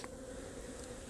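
Honey bees buzz around an open hive outdoors, a faint, continuous hum that holds steady through the brief moment with no speech.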